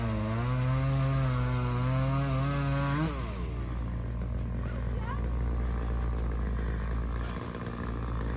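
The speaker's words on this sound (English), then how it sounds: "looks like my Thai boy's getting a chainsaw lesson over here" A chainsaw runs close and loud while clearing ground for a spring garden, its engine pitch rising and then dropping as it bites into wood, with a steady roar throughout.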